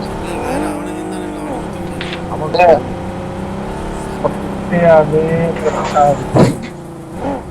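A vehicle engine in the battle royale game BGMI drones and revs as the car steers sluggishly, with pitch rising and falling and brief squeals, while players talk loudly over it.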